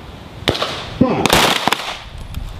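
Pistol shots at a shooting training range, a few sharp cracks spread across a couple of seconds with some echo, close and loud among other range noise.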